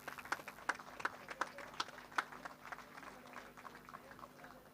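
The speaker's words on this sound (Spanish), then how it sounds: "fuerte aplauso para los tres" Applause at a livestock auction at a rural expo, a faint, distant patter of scattered clapping in a crowd, with irregular sharp claps over a steady background murmur.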